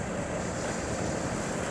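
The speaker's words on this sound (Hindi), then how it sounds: "ओवरफ्लो हुआ है, बहुत तेज़ी से पानी गुजर रहा है।" Fast water rushing over the overflowing Malir River dam, heard as a steady, loud, broadband roar with wind buffeting the microphone and no voices.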